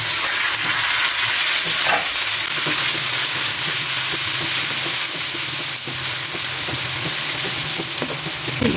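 Tomatoes sautéing in a hot pan for ginisang ampalaya, a Filipino bitter melon stir-fry, give a loud, steady sizzle with scraping stirring strokes throughout and no talking.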